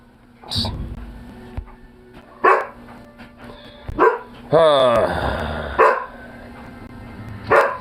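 A dog barks loudly and sharply at close range, about six separate barks spaced a second or two apart, with a drawn-out, strained whining bark in the middle.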